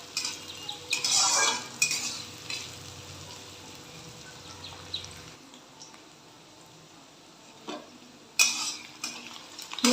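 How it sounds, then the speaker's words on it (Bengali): Onions fry in a pan while a spoon stirs and scrapes them, with clinks of metal and a soft sizzle underneath, and a couple of sharper clatters near the start and end. "পেঁয়াজটা বেশ ভাজা হয়ে এসেছে"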